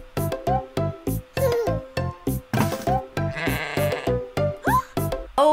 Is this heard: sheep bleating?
yes